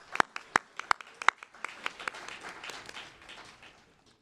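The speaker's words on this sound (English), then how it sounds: "Can we have a round of applause for that?" A concert audience starts to clap, first a few sharp, separate claps and then a soft, scattered patter that fades out quickly.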